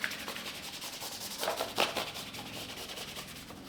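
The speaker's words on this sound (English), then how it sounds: "on the matte, you can use the scrubby side too if you want" A rubber car floor mat is scrubbed with the abrasive side of a lithium auto cleaning cube, giving close, soft rubbing strokes with a few louder scrapes, and no voices.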